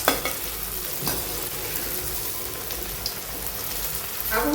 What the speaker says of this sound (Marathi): मस्त तर गोल्डन भाजून घेऊ थोडेसे खरपूस